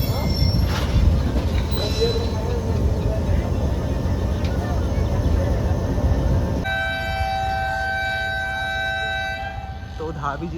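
Passenger train, the 151UP Shah Latif, pulling out of a busy station on its Karachi–Hyderabad run, with loud rumbling wheels and clatter throughout, a sharp horn-like tone and thin wheel squeal in the later part, and crowd noise beneath.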